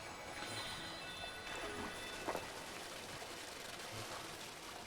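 Steady rain falling in the forest area of the game Sky: Children of the Light, a dense continuous patter filling the scene at even loudness, with no talking.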